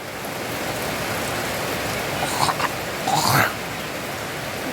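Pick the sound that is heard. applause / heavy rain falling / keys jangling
heavy rain falling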